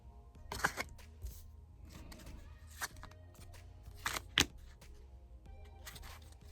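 Tarot cards being shuffled by hand up close: quiet, sparse bursts of papery riffling and soft snaps separated by near silence, with no talking.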